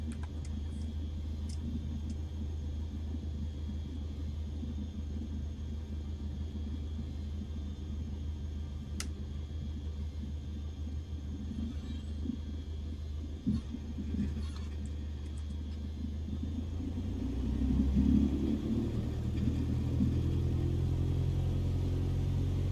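Cessna 152 single-engine light aircraft taxiing, a steady low piston-engine rumble heard from inside, with a few faint clicks and a throatier swell in power toward the end.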